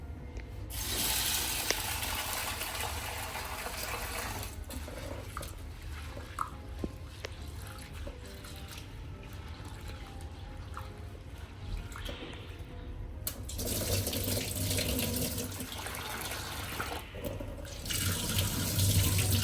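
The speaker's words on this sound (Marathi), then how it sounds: "आता ही स्वच्छ पाण्यानं धुवून घेणार आहे" Chana dal lentils rinsed under a running kitchen tap, a steady close rush of water with splashing in the sink, with no talk.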